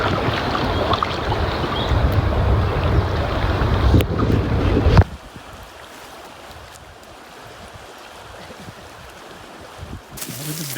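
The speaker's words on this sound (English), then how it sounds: "And this is the South Fork of the Flathead River." Water rushes steadily on the South Fork of the Flathead River in Montana's Bob Marshall Wilderness, with wind buffeting the microphone during packrafting. The sound is loud at first, then falls abruptly to a quieter, softer flow.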